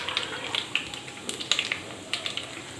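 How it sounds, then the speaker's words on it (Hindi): Water hitting hot kalonji and spices in a pan while making raw mango pickle, giving crackling sizzle with sharp pops and spatters in irregular bursts over a soft frying hiss. "अब इसमें मैं थोड़ा सा पानी ऐड कर रही हूँ।"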